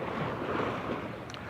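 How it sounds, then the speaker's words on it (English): High-tide waves wash onto a Thailand beach in a steady, close rush of surf, with light wind noise and no voices. "high tide waves here"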